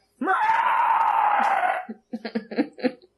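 A person imitates a velociraptor with one long, loud, strained screeching wail, followed by a few short broken vocal bursts, up close.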